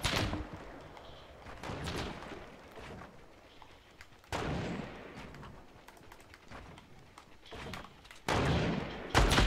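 Semi-automatic gunfire in a first-person shooter video game, heard as several loud bursts of shots spread across the stretch between quieter moments, with some low thumps.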